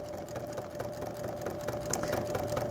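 A sewing machine runs steadily, stitching fabric for a quilt block, its rapid mechanical stitching chatter continuous and close, with a faint hum beneath and no talking.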